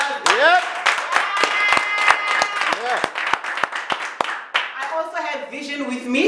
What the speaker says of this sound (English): Nditi, round of applause.